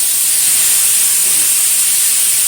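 Cut cauliflower stalks and potato pieces with turmeric sizzle in hot oil, a loud, steady, close hiss that stays constant throughout with no talking.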